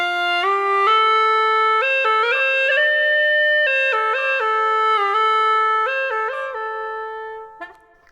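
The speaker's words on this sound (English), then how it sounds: "So let me go ahead and play this now with the drone closed." A Chinese hulusi gourd flute plays a clear, reedy melody with its drone pipe closed, single sustained notes stepping up and down, close and solo.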